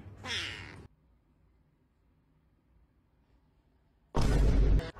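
A cat meows twice, one short call near the start and a louder, longer one at the end, with near silence between.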